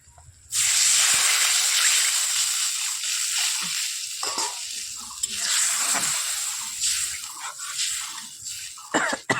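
Water poured into a pan of frying pabda fish curry with cumin paste, slit green chillies and sauce sets off a sudden loud hiss that slowly fades and bubbles, with no speech over it.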